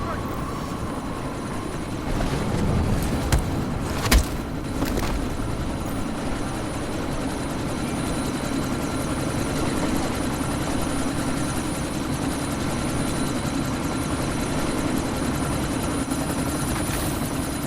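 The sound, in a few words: helicopter in video game Deus Ex: Mankind Divided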